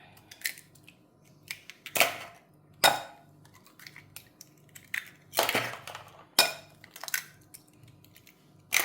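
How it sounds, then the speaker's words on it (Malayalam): Eggs cracked into a bowl of onion, green chilli and coriander for a broccoli omelette, heard as several sharp, separate knocks and clinks against the bowl spaced over a few seconds, close and clear with no talking. "ഇതിലേക്ക് നമുക്ക് കോഴിമുട്ട പൊട്ടി വെച്ച് കൊടുക്കാം."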